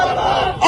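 A crowd at a candlelight march in Kota, protesting the Pahalgam terror attack, chants slogans in unison: a loud, close, massed roar of voices that swells again at the end.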